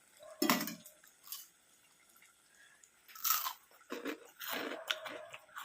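Several crisp crunches and bites on something fried, in irregular bursts with quiet gaps between, close up.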